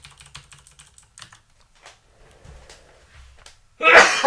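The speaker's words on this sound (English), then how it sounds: "I'm gonna sneeze." A single loud, sharp sneeze bursts out at the end, close to the microphone, after soft computer keyboard typing and quiet mumbled talk.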